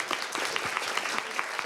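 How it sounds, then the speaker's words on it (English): A room full of people claps steadily, a dense, even patter of applause. "Give her an applause."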